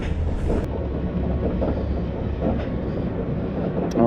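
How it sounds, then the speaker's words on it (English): Blue Hawk roller coaster train, formerly the Ninja, running with new trains at Six Flags Over Georgia; a continuous low rumble and rattle of the cars on the track, loud and close, with a brief squeal near the end. "Blue Hawk roller coaster. This used to be the Ninja, and now they've added new trains, and it's much smoother"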